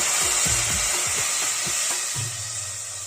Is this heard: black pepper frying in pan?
yes